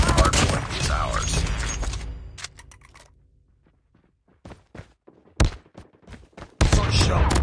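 Gunfire in Call of Duty Mobile multiplayer, with dense bursts of automatic fire at the start and end and scattered single shots and thuds between, loud and close, with game voice callouts at moments.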